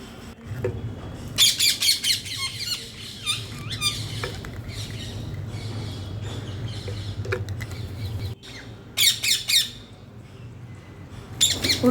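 A pet parakeet on a rooftop squawks in loud, shrill bursts while eating a biscuit, with clusters of sharp calls early on and again near the end over a steady low background hum.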